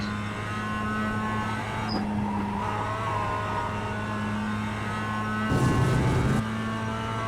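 A Mazda MX-5 Cup race car engine in iRacing drones steadily at Lime Rock Park, holding a constant pitch with a brief rough burst of tire or kerb noise partway through.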